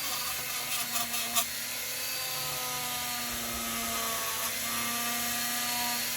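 Polishing a fret on a Harley Benton SC450 P90 GT Pro electric guitar, probably with a rotary tool: a steady, high whirring grind runs through the whole clip at an even level, with no talking.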